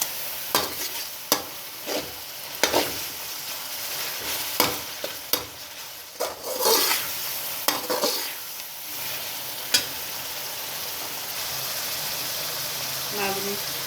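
Masala for chicken karela being fried and stirred in a pot, with loud sizzling and rhythmic scraping strokes, then a quieter simmering hiss toward the end; a voice speaks over parts of it.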